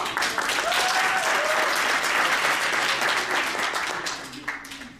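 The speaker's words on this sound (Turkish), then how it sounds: "Her iki takıma da e, göstermiş oldukları performans dolayısıyla büyük bir alkış rica edeceğim." Audience at a debate competition during a JCI Türkiye winter summit applauding both teams, loud sustained clapping from a packed hall with faint voices underneath, tapering slightly near the end.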